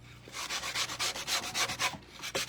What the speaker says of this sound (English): I'm gonna start by sanding.